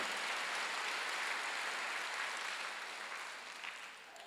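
A congregation applauds during a Sunday worship service, a steady wash of many hands clapping at moderate volume that gradually thins and fades toward the end.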